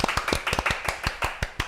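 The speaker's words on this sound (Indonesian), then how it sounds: "tepuk tangan dulu." A small group on a podcast claps, with distinct, rapid, close hand claps in a quick uneven rhythm, about a dozen sharp hits over a couple of seconds.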